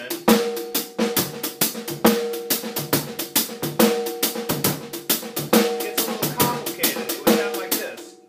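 A steady, laid-back Purdie half-time shuffle drum groove with accented hits and softer ghost-note strokes in between, repeating a swung pattern with no voices.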